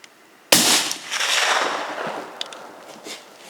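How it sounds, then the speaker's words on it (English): A single loud rifle shot from a Sig Cross in 6.5 Creedmoor firing Hornady 100 grain ELD-VT ammunition, a sharp crack followed by a long rolling echo that fades over a few seconds outdoors. "5 rounds of the Hornady V match with the 100 grain ELD-VT."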